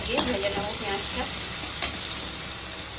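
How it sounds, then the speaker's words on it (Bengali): Onions fry with salt in a kadai for ghugni, giving a constant loud sizzle broken by a few scraping stirs. "ঘুগনির পরিমাণে নুনটা দিয়ে ভেজে নেবো পেঁয়াজটা।"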